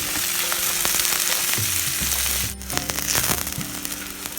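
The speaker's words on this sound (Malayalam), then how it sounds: "ഇനി മീഡിയം വലിപ്പമുള്ള ഒരു സവാള അരിഞ്ഞതും 4 അല്ലി വെളുത്തുള്ളിയും, ചെറിയൊരു കഷ്ണം ഇഞ്ചി ചെറുതായി അരിഞ്ഞതും, 2 പച്ചമുളകും ഇതെല്ലാം ചേർത്ത് നന്നായി ഒന്ന് വഴറ്റിയെടുക്കാം." Onion, garlic, ginger and green chillies sautéing in a hot pan for a vegetable kurma, a steady close sizzle with bursts of crackling and stirring scrapes midway.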